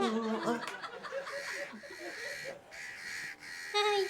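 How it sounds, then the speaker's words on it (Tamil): Several crows caw loudly in overlapping bursts, harsh and repeated, close by with a few quieter calls in between. "இப்ப நிறைய காக்கா சத்தம் கேக்குது."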